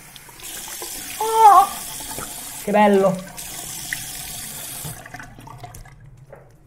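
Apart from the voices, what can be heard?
fresh water running from a tap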